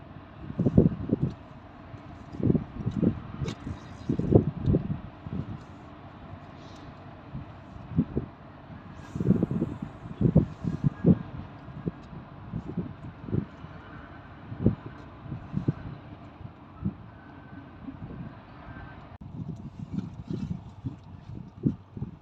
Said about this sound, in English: It's even less sheltered by the wind. Sorry, I'm even more exposed by the wind here.